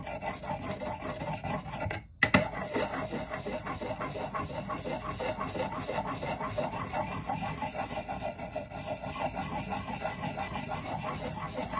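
An axe bevel is filed by hand at roughly a 45-degree angle, giving steady, rhythmic rasping strokes close to the ear, with one brief pause early on and no talking.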